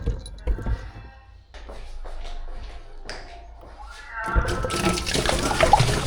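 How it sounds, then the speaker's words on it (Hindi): Water rushes into a household washing machine, preceded by a few seconds of shuffling and handling noises, then becomes a loud, continuous gush for the final stretch. "अभी मशीन में पानी डाल रहा हूँ"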